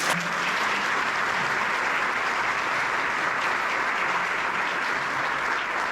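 An audience at a Portuguese storytelling and branding talk gives a sustained round of applause for a co-founder coming onstage, a dense, even wash of clapping filling the room for six seconds.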